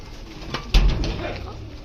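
A pigeon coos softly and briefly up close, with faint rustling and a voice nearby.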